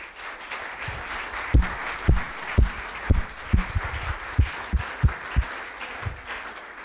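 An audience at a conference presentation in Switzerland applauds, a steady wash of many hands with a series of heavier, evenly spaced low thumps cutting through it.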